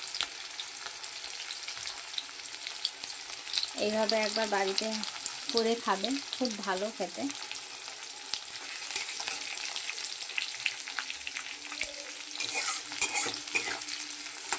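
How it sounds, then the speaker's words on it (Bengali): Chopped onions sizzle and hiss in hot oil with cumin while being stirred in a pan during home fish curry cooking, a steady frying crackle throughout with a voice talking over part of it. "পেঁয়াজটা একটু ভাজা হবে"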